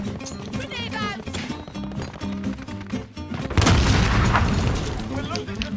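A grenade explodes in the Modern Warfare shooter amid gunfire and battlefield noise, a heavy close boom bursting partway through after voice lines and game sounds, with rumble trailing off.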